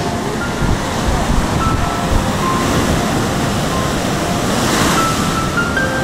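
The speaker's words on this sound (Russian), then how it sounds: "Такие волны." Large sea waves break and wash onto a Korean beach in a loud, continuous roar mixed with wind buffeting the microphone, with no pause throughout.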